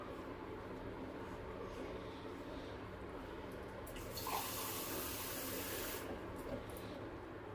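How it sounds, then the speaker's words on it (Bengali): Water, about one glass, pours into a pan holding hilsa fish in spices for a Bengali curry. It makes a steady rushing splash throughout that grows slightly fuller partway through, with no talk over it. "আমি এখানে 1 গ্লাস পরিমাণ জল ব্যবহার করছি।"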